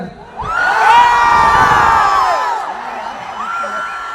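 A large crowd at a Tamil Nadu political rally in Erode cheers and shouts, loud whoops and yells rising together and tapering off, then swelling again near the end.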